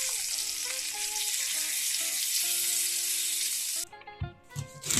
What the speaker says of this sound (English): We prefer to fry the fish inside down to let it dry first.